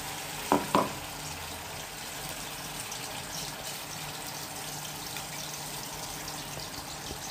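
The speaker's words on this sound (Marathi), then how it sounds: "कढईमध्ये मी तेल टाकलं आहे आणि त्याच्यामध्ये हा कांदा आणि टमाटा बारीक केला आहे मी" Onion and tomato paste fries in oil in a kadai with a soft, steady sizzle, broken early by a couple of sharp clinks, with no talking.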